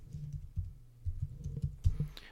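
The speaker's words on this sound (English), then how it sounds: "I just typed that into eBay search" Fingers type on a computer keyboard to enter a search, producing a quick, uneven run of close, soft key clicks and taps with no talking.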